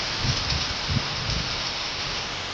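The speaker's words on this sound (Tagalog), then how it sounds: "Lakas ang ulan." Heavy rain pours steadily in a dense, even hiss, with a few soft low thuds underneath and no voices.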